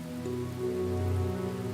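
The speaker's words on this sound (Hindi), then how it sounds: "लगता है बारिश और तेज हो रही है।" Heavy rain falling steadily, a dense, continuous wash of drops on surfaces, loud and even throughout.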